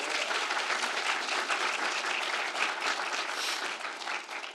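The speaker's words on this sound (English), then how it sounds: "One more round of applause for Yumi and Emmanuel David." An audience at an artists' talk in a museum space applauds the artists, a sustained, even wash of many hands clapping from a crowd, alone without talk and easing slightly at the close.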